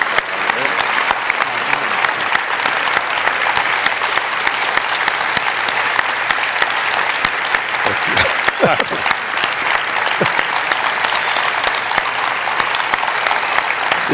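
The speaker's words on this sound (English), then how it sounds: "Let's give them a big round of applause." Sustained audience applause at the SIGGRAPH 2017 keynote address, a dense, steady wash of clapping that fills the hall throughout, loud and continuous, with a few louder bursts near the middle.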